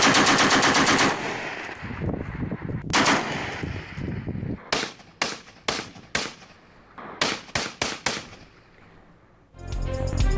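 Small arms gunfire along the Line of Control: loud sustained automatic bursts followed by a string of sharp separate shots and short volleys, with a final rapid burst at the end.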